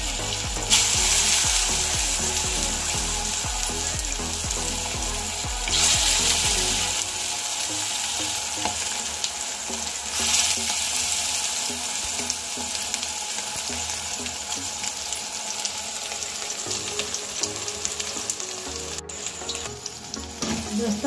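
Urad dal vadas for dahi vada fry steadily in hot oil, a dense continuous sizzle with brief louder bursts as pieces go in, close and constant throughout without any voices.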